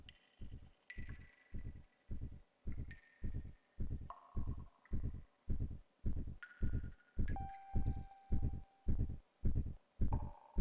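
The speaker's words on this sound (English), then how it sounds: "We just gonna have a heartbeat, or?" Steady, throbbing heartbeat from the Xenogears video game, about two beats per second, loud and even, with soft tonal chimes and game music notes drifting above it.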